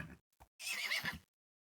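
Baby horse mob noises from the Minecraft video game: a short whinnying neigh after a couple of soft clicks, close and clear with no talking.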